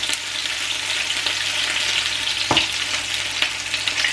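Meatballs frying in oil in a large pan, a dense continuous sizzle close up, broken by a few sharp scrapes and taps as they are moved around.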